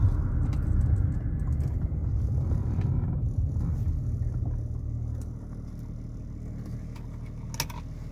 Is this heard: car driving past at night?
yes